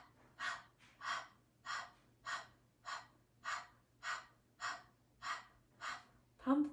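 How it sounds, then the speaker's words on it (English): Rhythmic diaphragm breathing in a yoga session: about a dozen short, sharp puffs of air pushed out through the nose at an even, steady pace, close and fairly quiet, with a faint low hum beneath. "Pump the diaphragm rhythmically, pulling belly button in towards spine, and then releasing naturally, just little puffs of air."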